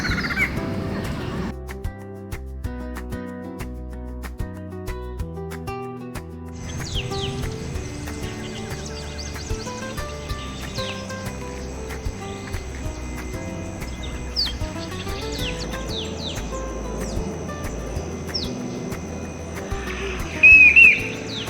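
A barred antshrike calls in the open, a series of accelerating hollow notes repeated several times, moderately near, with other birds chirping in the background.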